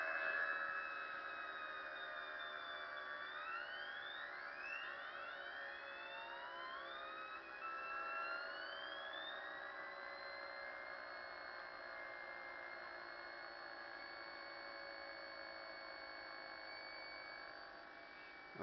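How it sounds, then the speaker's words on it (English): A spinning magnet wheel on a homemade solid-state Orbo motor gives a steady, loud whine whose pitch sweeps upward as the wheel spins up, then holds as a sustained tone with no talking. "We get this wheel spun up."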